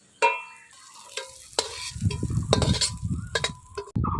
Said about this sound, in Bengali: পটলের রস শুকায় গেছে, পটল একটু ভাজা ভাজা হয়ে গেছে